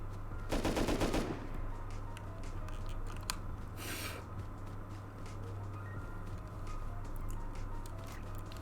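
A quick burst of rapid gunfire from a gun fitted with a muzzle brake in the video game Rust, followed by a fainter single burst, over continuous in-game ambient noise and a low hum.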